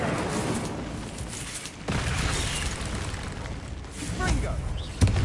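Incendio fire spell cast in Hogwarts Legacy, a video game: bursts of whooshing flame and booming impacts over rumbling game sound, ending in a sharp pop, with a voice speaking over it.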